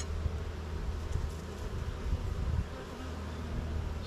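Honeybees buzzing inside an opened beehive during a beginner's inspection, a dense continuous hum close by, swelling and easing slightly, with no voices.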